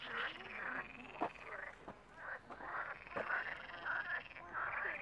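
A chorus of frogs croaks near a pond at Schloss Dennenlohe, a dense, continuous rattling trill with rising and falling swells and a few sharp knocks, fairly quiet and heard without talk.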